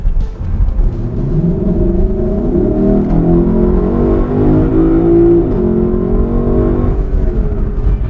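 A Lexus LC500 convertible's engine growls loudly and steadily, its enhanced artificial exhaust note rising and falling through revs for several seconds, close and continuous with no talking.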